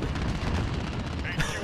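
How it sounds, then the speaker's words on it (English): Heavy cruise missile explosion striking the player in a video game, a dense, continuous loud blast with rumbling low end throughout and a brighter burst near the end, with voices mixed underneath. "The missile came back and killed us."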